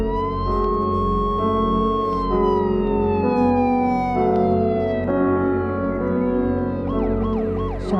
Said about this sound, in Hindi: ये एम्बुलेंस हमारे घर क्यों आई है?